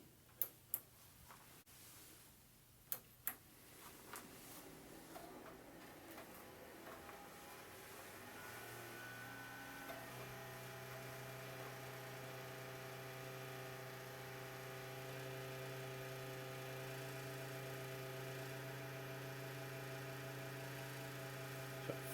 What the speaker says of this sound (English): Fair bit of aggressive fan noise going on in this system